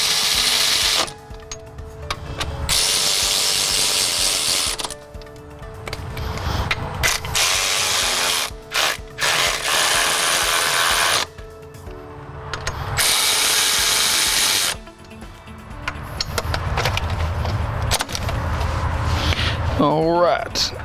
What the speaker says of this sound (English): We'll go ahead and tighten down our AC compressor.